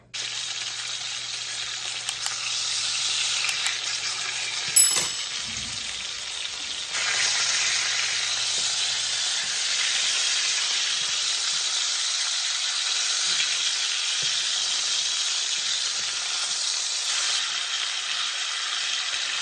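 Chicken thighs sizzle and fry steadily in a pan, a broad continuous hiss with a brief clatter near the start and occasional faint stirring noises, no talking.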